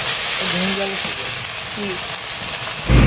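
Ginger paste hits hot oil in a frying pan while paneer biryani is cooked, giving a steady, close sizzle and hiss, with faint voice fragments underneath.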